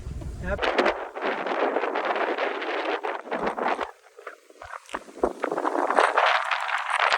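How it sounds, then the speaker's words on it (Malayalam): Strong wind roars across the Ilaveezhapoonjira hilltop viewpoint in Kottayam, buffeting the microphone in loud, continuous gusts that ease briefly before surging again, with no voices heard. "എന്താ കാറ്റ്"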